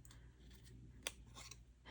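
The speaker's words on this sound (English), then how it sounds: "I just take my scissors. I'm just gonna run this like this." Scissors fussy-cutting around a stamped image on paper card for a Christmas card, with one sharp, close snip standing out against quiet room noise.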